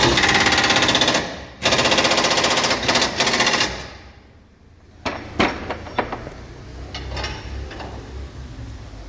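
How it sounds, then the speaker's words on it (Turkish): A bolt is tightened on the suspension of a Kia Bongo truck in a repair shop: loud, rapid rattling bursts for about four seconds, then a pause and scattered sharp metallic clicks and knocks. "Civata var onu sıkıyorsun. İyi sık ha"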